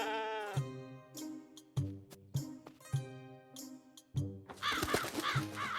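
Sheep in the video game Lost in Play bleat in a series of loud, wavering calls with short gaps between them, ending in a burst of busier, harsher game sounds.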